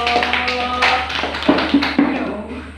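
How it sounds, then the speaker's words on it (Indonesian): Children in a classroom give scattered light taps and claps close by over an electronic hum, uneven and sparse rather than a full round of applause. "Tepuk tangan buat teman kalian"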